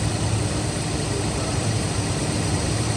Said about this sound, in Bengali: VVTi engine